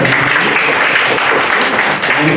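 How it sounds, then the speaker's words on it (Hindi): Dense, steady applause from an audience at a community meeting with transgender people in Chandigarh, loud and continuous throughout with no break in the clapping. "इनके लिए जोरदार तालियां एक बार"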